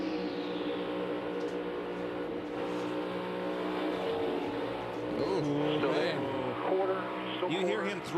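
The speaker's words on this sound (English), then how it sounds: "You hear him throttle up to get in that position." NASCAR stock cars race at Darlington, engines droning and rising in pitch as one throttles up, heard at a distance beneath continuous broadcast commentary.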